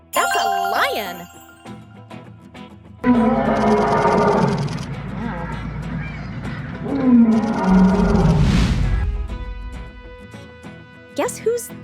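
A lion roars loudly in an animal sounds guessing game, two long, deep bellowing roars with a brief lull between them, preceded by a short cartoonish intro sound and ending with a quick jingle.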